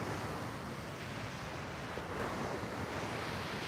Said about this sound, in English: The water too loud or the wind too much.